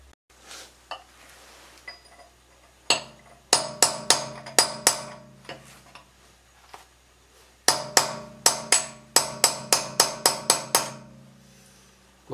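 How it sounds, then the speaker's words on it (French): A pin punch is hammered against the driveshaft nut on a Mercedes during a rear wheel bearing job. Sharp, ringing metallic blows come close up in two quick bursts, with a couple of lone taps before them. "je vais prendre un chasse-goupille et je vais écraser de chaque côté"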